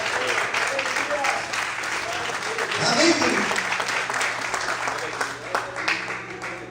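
A church congregation applauding, sustained clapping running underneath a preacher's voice as he keeps talking.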